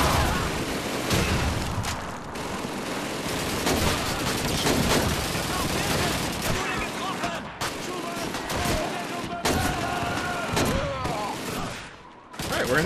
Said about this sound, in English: These machine guns don't really work so well trying to hit me over here, do they?